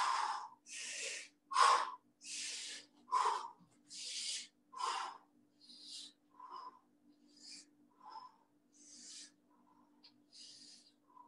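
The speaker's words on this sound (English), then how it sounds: "Go hard with your breathing here." Hard, rhythmic breathing during a full-body workout, a series of forceful breaths in and out, loud at first, then shorter and softer toward the end, close to the microphone with no talk.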